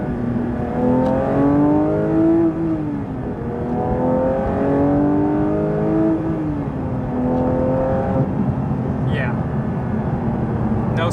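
Loud, close engine of a 2022 Porsche 911 GT3 (992) heard from inside the car, its pitch climbing and then dropping sharply several times as it downshifts, with a steady road roar underneath.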